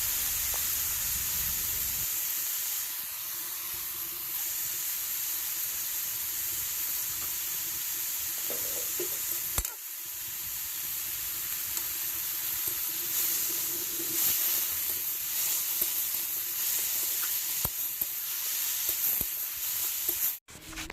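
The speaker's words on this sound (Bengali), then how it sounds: "তো বাঁধাকপিটা দিয়ে দিলাম, এখন শুধু একটু হলুদ, লবণ, লঙ্কা চেরা এসবই দিয়ে নাড়াচাড়া করে নামিয়ে নেব" Shredded cabbage stir-fries in a hot pan with turmeric, salt and slit chillies, giving a steady hissing sizzle throughout, broken by a few scraping stirs and a sharp clatter near the end.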